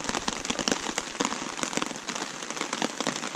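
Rain pattering at a lakeside camp on Kawishiwi Lake, a dense, fairly quiet crackle of drops striking surfaces nearby, with no voices.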